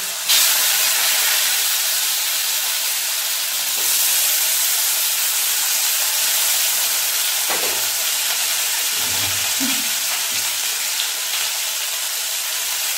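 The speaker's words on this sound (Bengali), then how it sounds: "এবার আমি আলুগুলোকে ভালো করে ভেজে নেব, লাল লাল করে" Potatoes frying in hot oil give a loud, steady hiss that holds for the whole stretch, with a few faint knocks of utensils near the end.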